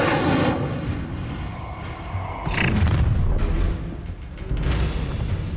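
Incendio fire spell cast repeatedly in Hogwarts Legacy: three loud whooshing, booming bursts spaced a couple of seconds apart over a rumbling battle backdrop, with no talk.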